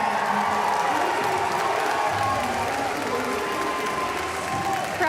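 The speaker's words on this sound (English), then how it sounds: "Crowd going absolutely crazy" At the 2025 Pokémon Europe International Championships, an arena crowd applauds and cheers loudly. The dense clapping and whoops hold steady for the whole stretch, with a voice faintly underneath.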